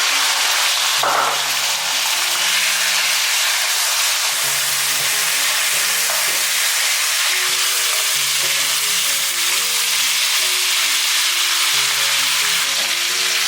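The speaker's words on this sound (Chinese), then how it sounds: "接着我们再把鸡肉放进来，煸炒到表面金黄。" Chicken pieces stir-frying in a hot pan with loud, steady sizzling and frying hiss throughout, with occasional stirring scrapes and no voices.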